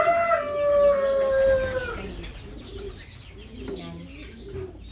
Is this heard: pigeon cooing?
yes